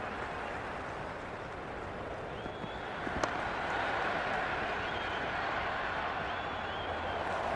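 Stadium crowd in the cricket video game Cricket 26 during a Pakistan versus Australia T20 match, a steady wash of distant crowd noise that swells slightly partway through, with a brief sharp click.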